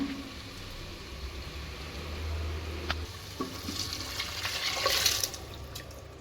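Rice and water poured together into a cooking pot for veg pulao, a running, splashing pour that builds toward the end with a few clinks, steady and close by.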